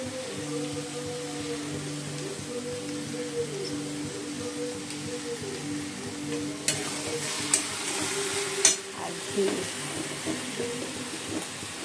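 Cabbage fries with ghee, garam masala and ground spices, a steady soft sizzle close by with a faint low hum underneath and occasional clinks and scrapes of stirring near the end.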